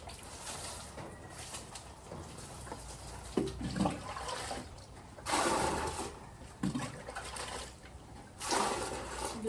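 Intermittent bursts of splashing water, like liquid being poured in several short pours, with quiet outdoor ambience between them.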